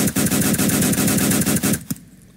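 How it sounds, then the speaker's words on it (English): Rapid automatic gunfire from a Roblox shooter, loud and close, with dense bursts running steadily for nearly two seconds before cutting off abruptly, followed by one last shot and quiet. "What kind of gun is he using?"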